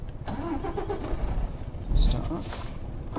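A Mercedes truck engine cranks and catches in a truck simulator game, a short starter whirr that bursts into a mid-pitched idle, with someone talking over it.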